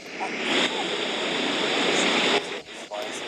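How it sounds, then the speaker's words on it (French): Ocean waves crash on a shore in a loud, continuous broadband roar that holds steady for over two seconds before dipping briefly and surging back. "Désolé, mais les vagues font trop de bruit."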